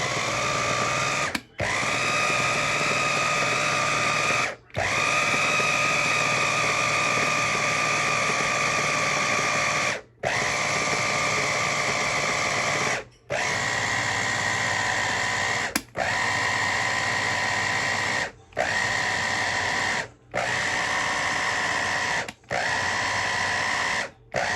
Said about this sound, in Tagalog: At ina pong gilingin para mag-mix yung mga ingredients.